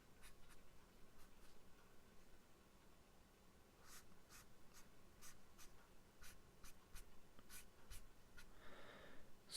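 Pen or pencil drawing lines on paper, a faint, close, steady scratching with short repeated strokes and a soft rub near the end.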